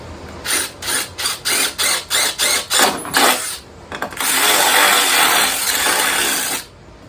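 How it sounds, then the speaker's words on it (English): A drill bores a hole in a Harbor Freight two-shelf steel service cart: a series of short bursts with brief pauses, then one sustained, steady grind of steady loudness before it stops abruptly, close and without talk. "I'll go ahead and drill my first hole here"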